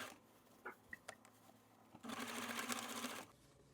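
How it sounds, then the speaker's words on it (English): A few soft clicks and handling sounds lead into a short burst of about a second of whirring machine stitching. It is a hem being sewn on machine-knitted fabric for a robot puppet. "turn up a hem and sew that down too"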